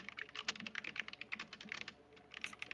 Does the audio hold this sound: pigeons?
no